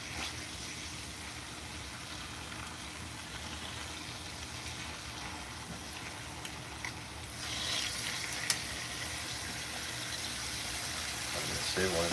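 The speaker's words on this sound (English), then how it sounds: "I mean, literally just sear it 3 minutes aside," Steak for fajitas sears in a pan over medium-high heat, a constant close sizzle running the whole way, with faint speech in the background and a brief clink near the end.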